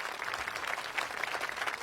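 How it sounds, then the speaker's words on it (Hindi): Applause for a speaker in a film scene: steady, dense clapping from a group continues evenly for about two seconds at moderate volume. "मेरा मतलब तालियां तालियां"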